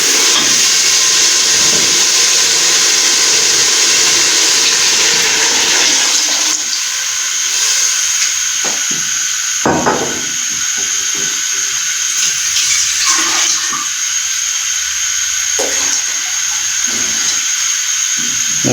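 Water from a jug, about one and a half jugfuls, pours into a pot of fried beef for korma, a steady hissing, splashing rush that fills the first few seconds before thinning into scattered bubbling and sizzling.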